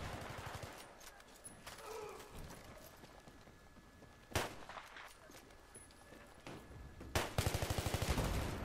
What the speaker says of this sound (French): le petit tire à la M16 qui passe bien après